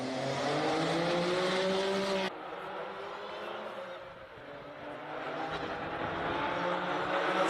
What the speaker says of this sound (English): Nissan Skyline GTR up on the start line.